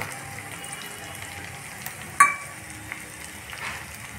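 Soft, continuous sizzling of spices tempering in hot oil for Rajasthani sobeda, fairly quiet and close, with one brief clink partway through.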